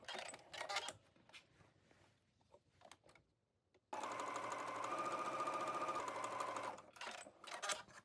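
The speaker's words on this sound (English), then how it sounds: "Next, stay stitch the front and back skirt waist." A sewing machine runs a stay stitch along a skirt waist edge, a continuous mechanical whir lasting about three seconds, framed by quieter handling noises before and after.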